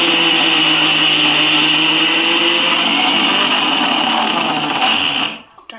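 A kitchen mixer grinder whirs steadily at full speed, close and loud, grinding cooled roasted spices with garlic into a powder for a prawn sukka masala, then cuts off abruptly near the end.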